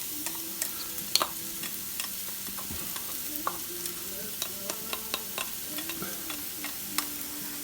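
Half a small white onion sautés in a couple of tablespoons of oil in a pan, giving a faint, steady sizzle broken by light scattered clicks of stirring.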